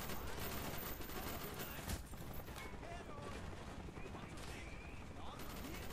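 Enemy gunfire in Call of Duty: Black Ops during the Hue City defense, a dense run of rapid, sharp shots and clattering bursts, close and sustained, with someone talking over the fighting.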